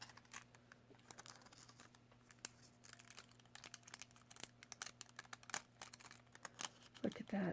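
Foil transfer sheet being peeled off a handmade card, heard as faint crackling and crinkling with irregular close-up ticks, and a slightly louder rustle near the end.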